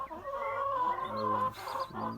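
A broody Minorca hen clucks close by with her six small black chicks, a run of drawn-out, throaty calls with a short break midway, heard alone.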